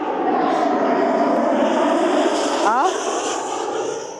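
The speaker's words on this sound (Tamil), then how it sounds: "இது ஆர்மி ஃப்ளைட் ஆக்கும் இது ப்ரைவேட் ஜெட்" A private jet flies low overhead with a loud, steady roar that fills the whole stretch and fades slightly at the end, while people talk.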